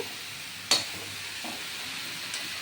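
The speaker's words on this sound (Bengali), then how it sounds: "এইবার এই মশলা দিয়েটা ভাজা হবে" Spices frying in a pan for a Bengali fish-head and cabbage ghonto: a soft, steady sizzling hiss, close by, with a single sharp clink of a utensil early on.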